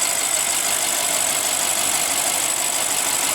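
A 2015 BMW 650i Gran Coupe with a 4.4 L twin-turbo V8 idles steadily, an even mechanical hum with a hissy, whining edge that holds unchanged throughout, no voices present.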